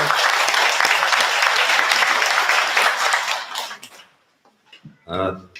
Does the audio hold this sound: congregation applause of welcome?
yes